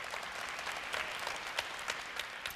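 Audience applause welcoming a lecturer at a televised admissions seminar, a steady wash of many hands clapping at moderate distance with a few louder individual claps standing out.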